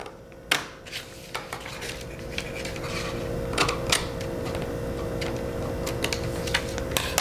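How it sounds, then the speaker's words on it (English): Scissors cut sewing pattern paper along a drawn line, giving a close series of crisp, irregular snips and clicks over a quiet background. "you're gonna cut on that line you just drew"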